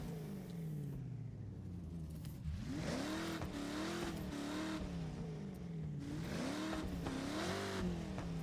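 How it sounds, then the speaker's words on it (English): A car engine revving in the racing game Forza Horizon 6, with rising and falling pitch sweeps as the revs climb and drop again, steady and fairly loud with no talking over it. "That engine sounds fantastic."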